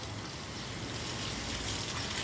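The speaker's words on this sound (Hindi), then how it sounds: "अच्छी तरीके से पानी डाल देंगे इसमें" Water gushes steadily into the pot of a freshly repotted rhapis palm, a continuous close splashing rush with no pauses and no voices.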